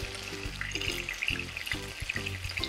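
Chicken pieces for cheesy chicken frying in a pan over a medium-low flame, a close, steady bubbling sizzle with soft crackles, no talk.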